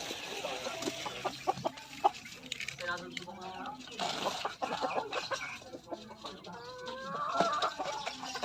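Several chickens cluck and chatter close by in a busy flock, short irregular calls overlapping with rustling and a voice talking among them.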